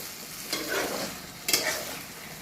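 Stomach curry frying with spices in a pan, a steady close sizzle broken by two bursts of stirring and scraping, with no voices.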